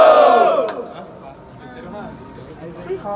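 Crowd at a Brazilian rap battle cheering and shouting, a loud burst of voices at first that fades into a steady murmur of chatter and calls.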